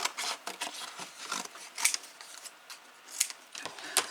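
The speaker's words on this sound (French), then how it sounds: "Et là je vais pouvoir découper autour." Scissors snip paper in short, crisp cuts around a glued shape for a Valentine's star scrapbook album. The cuts are close and come in an irregular rhythm with brief pauses, and no one speaks.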